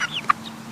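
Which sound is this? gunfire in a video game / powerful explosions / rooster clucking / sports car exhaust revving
rooster clucking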